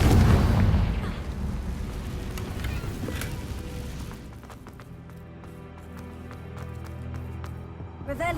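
A fire spell explosion from Confringo in Hogwarts Legacy opens with a loud, deep boom that rumbles and fades over several seconds into scattered crackles and a low background hum.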